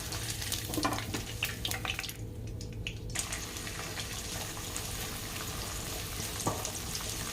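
Vegetables, including cauliflower and eggplant, deep-fry in oil over a high flame, making a loud, steady bubbling sizzle with scattered crackles, a brief quieter patch and no talking.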